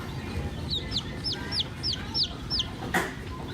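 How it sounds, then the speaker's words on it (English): A chicken in a backyard garden gives a quick run of about seven rhythmic clucks, close and clear over a low outdoor background. "That one's going bok, bok, bok."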